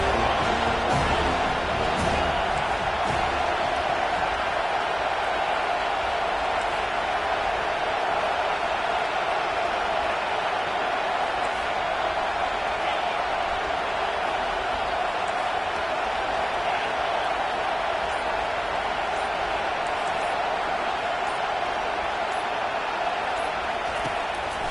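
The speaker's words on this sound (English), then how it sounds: "Decibels rising as the crowd gets behind this defense on 3rd down." A football stadium crowd roars steadily on a third-down defensive play, a dense, sustained wall of cheering and noise with no breaks throughout.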